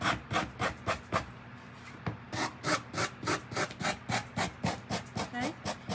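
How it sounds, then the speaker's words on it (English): Rhythmic rasping strokes of a sanding block worked back and forth over a pumpkin, steady repeated scrapes close up with no talking. "let's sand it down"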